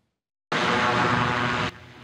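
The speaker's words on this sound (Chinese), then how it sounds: "这架小型飞机从基地起飞后翱翔于天际，仔细一看，飞机内并无任何人驾驶" A small South Korean-built unmanned aircraft takes off from a base and flies at about 150 km/h, giving a sudden loud, broad engine and propeller roar that cuts down sharply after a little over a second.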